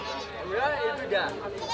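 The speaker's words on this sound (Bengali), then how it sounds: "এই যে এইদিকে আবার ছাগল আছে এদিকে মূলত ছাগলের হাট" Goats bleating at a busy weekly cattle-and-goat market in Kishoreganj, a few wavering bleats close by over a murmur of crowd chatter.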